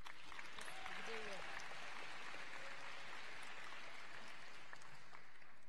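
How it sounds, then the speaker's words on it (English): An audience at a senior awards night applauds a scholarship recipient, steady sustained clapping filling the room from start to finish, with a brief low voice near the beginning. "please give him a round of applause for Maynard Education Management Group Scholarship"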